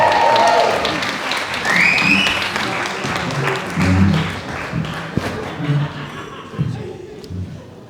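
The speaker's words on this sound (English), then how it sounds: "Massive round of applause for Ian" Wedding guests applaud at a reception, a burst of clapping that fades over a few seconds into chatter, a stray thud and people talking nearby.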